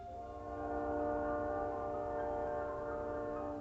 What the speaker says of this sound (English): The train literally rocks my whole trailer.